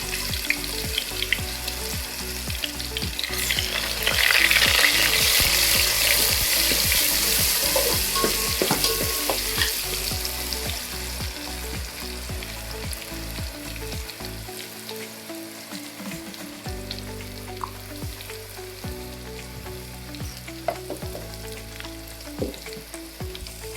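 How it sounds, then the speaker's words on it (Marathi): Garlic ginger paste frying in hot oil and rendered mutton fat for a mutton curry, with a loud continuous sizzle and crackle, close up, with occasional stirring clinks and no talking. "सर्वात पहिलं लसूण अद्रकचं पेस्ट टाकूया."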